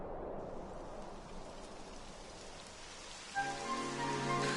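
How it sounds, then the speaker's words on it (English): Steady rain hisses throughout in Dragon Quest XI, a broad wash of drops on a surface, with a tonal game melody entering near the end over the downpour. "It would have to go and start raining, wouldn't it?"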